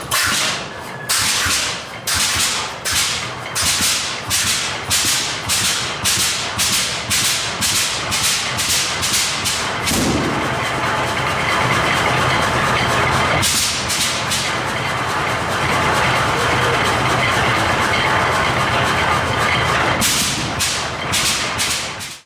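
A Hart-Parr 3060 "Old Reliable" vintage tractor engine starts with loud, slow, evenly spaced exhaust bangs that briefly falter, then settle into a denser rhythmic chugging that keeps running, close and loud.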